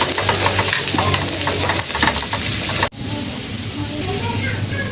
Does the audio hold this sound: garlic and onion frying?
yes